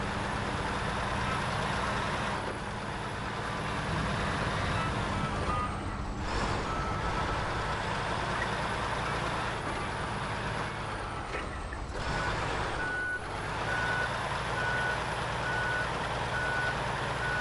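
A heavy truck in SnowRunner rumbles along with a steady low engine drone, a high reversing beep repeating in the background and air brake hisses, no talking.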